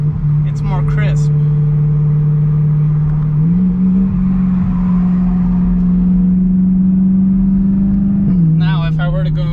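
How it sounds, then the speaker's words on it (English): A BMW M3 with a DCT gearbox hums at a steady, loud engine drone, then steps up in pitch with a crisp blip as it downshifts. Someone speaks briefly at the start and end. "Now when you downshift, it's more crisp."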